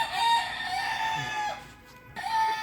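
Three-month-old hens and young roosters at close range, with a rooster's crowing and hen clucks rising and falling over a couple of seconds of farmyard sound.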